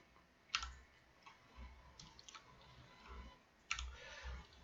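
Keyboard keys and a computer mouse clicking near the microphone while modelling round corners in SketchUp, a few sharp isolated clicks spread out at an irregular pace over a faint, quiet room background.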